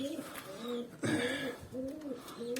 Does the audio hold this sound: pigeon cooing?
yes